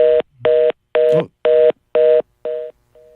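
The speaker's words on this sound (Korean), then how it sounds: "전화가 끊겼습니다. 다시 연결해 보도록 하겠습니다." A telephone dials out with a run of six evenly spaced, loud DTMF keypad tones, followed by a fainter, shorter tone at the end as a dropped call is reconnected.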